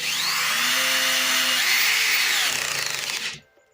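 An Intertool WT 0110 corded electric screwdriver on first speed drives a 35 mm self-tapping screw, a loud, close, high whine that pitches up and down under load, then stutters briefly and winds down to silence.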